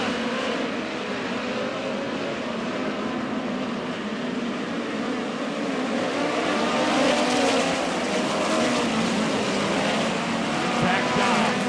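Midget race cars roar around the dirt oval at Lake Ozark Speedway in a POWRi National Midget League race, a dense continuous engine howl swelling as cars pass, with an announcer talking over it.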